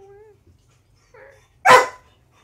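A dog lets out a couple of soft, high whimpers, then a single loud, close bark, with quiet pauses between the sounds.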